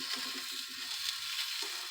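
Salisbury steak patties sizzle in a hot skillet, a close, steady hiss of frying with faint crackles, heard alone without talk.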